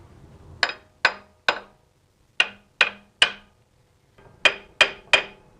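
A hammer taps the pulley on a Kia Sportage engine in three quick bursts of three sharp metallic strikes each, close and ringing, with short pauses between groups and no talk.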